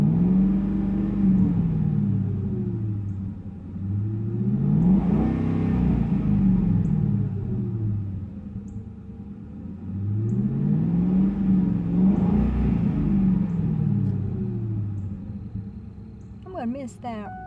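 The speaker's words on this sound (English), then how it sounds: "You want to hear that V8?" A 2004 Ford Mustang V8 with high mileage revs twice in long, rising and falling swells. The deep engine roar climbs, then settles back to a low idle rumble between the revs, recorded close to the car.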